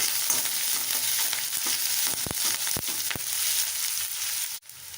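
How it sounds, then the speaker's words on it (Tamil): Onions sauté in hot oil for a chow chow poriyal, a continuous close sizzle with a few sharp ladle clacks against the pan and a brief break near the end. "வெங்காயம் நல்லா வதங்கிடுச்சு"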